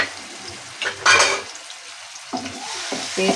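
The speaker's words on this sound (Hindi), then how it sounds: "ऑयल के साथ डालेंगे अदरक लहसुन का पेस्ट" Ginger garlic paste frying in oil for achar gosht: a steady oily sizzle, interrupted by stirring scrapes of a utensil against the pan, close and continuous.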